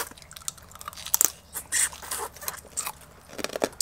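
Close crunchy bites and wet sucking on blue crab meat from a spicy Thai crab salad eaten with crisp pork rinds, in short irregular bursts of chewing and slurping, with no talking.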